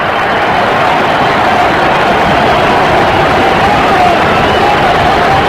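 Baseball stadium crowd at a World Series game between the Yankees and Mets, a dense, loud, unbroken roar of many voices holding steady throughout.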